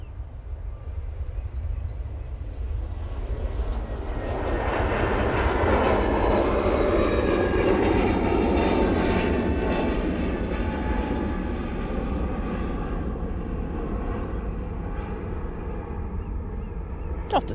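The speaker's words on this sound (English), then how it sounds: "Air Transat A321neo now on the roll" An Air Transat Airbus A321neo jet takes off at Manchester Airport in low visibility, its broad engine roar building steadily and holding loud and sustained, with a brief voice near the end.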